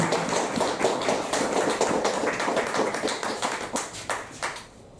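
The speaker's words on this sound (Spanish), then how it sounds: "Les pido un aplauso para esto." An audience applauds steadily at a Peruvian public conversation and award ceremony, with dense, continuous hand clapping that thins and fades out toward the end.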